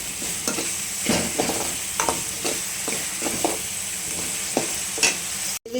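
Tomatoes fry in a pan, a steady sizzle broken by repeated scraping stirs of a spoon against the pan, close and clear with no talking.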